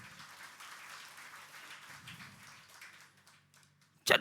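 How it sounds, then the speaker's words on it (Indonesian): A church congregation at a Sunday worship service applauds, a soft, diffuse patter of clapping that fades out over several seconds before a brief louder burst at the end. "Beri tepuk tangan."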